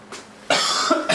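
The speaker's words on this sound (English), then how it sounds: "The symphony of coughs." Several short, sharp coughs in quick succession, close and fairly loud, the later bursts harsher and longer.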